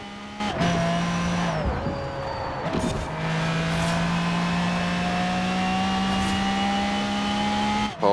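In Forza Horizon 4, a car races hard through a lap of the Goliath circuit. The engine drones loud and close, with steady high revs and a few quick dips at gear shifts, and no talking over it.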